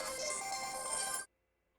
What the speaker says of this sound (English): There's my phone going off.